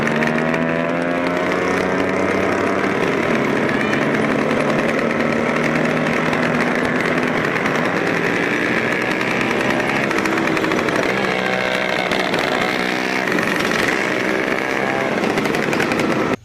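A loud, buzzing 84 cc two-stroke fuel-injected Vespa scooter engine running continuously nearby, its pitch rising and falling slightly as it revs.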